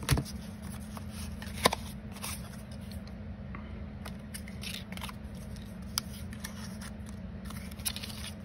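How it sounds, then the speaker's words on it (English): Scissors trimming the edges of decorative paper tags: quiet, scattered snips and crisp papery cuts, with a couple of sharper clips over a faint, steady room background. "Trim these edges."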